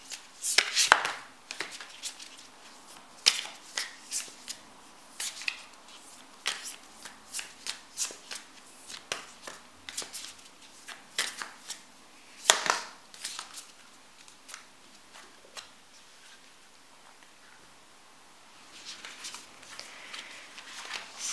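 Empowering divine feminine oracle cards being shuffled by hand, close and crisp, with repeated riffling bursts and soft slaps in an irregular rhythm.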